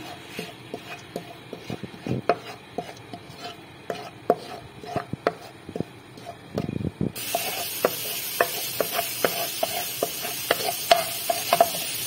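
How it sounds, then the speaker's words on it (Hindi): Ginger-garlic paste sizzles quietly in hot oil over a medium flame while a utensil repeatedly taps and scrapes the pan; the sizzle grows louder and hissier partway through. "देखिए मीडियम फ्लेम पे इसे मैं फ्राई करूंगी।"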